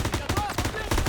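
Rapid bursts of automatic gunfire in the video game Call of Duty: WWII crackle in quick succession, loud and dense, with a faint voice mixed in.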